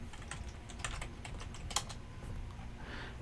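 Quick clicking keystrokes on a computer keyboard, a short burst of close, light taps in an uneven rhythm with no talk.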